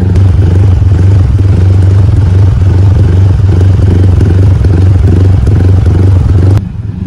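Standard automatic scooter engine with adjusted ignition timing and a quiet exhaust, idling in a steady, loud low rumble close by, then cutting abruptly near the end.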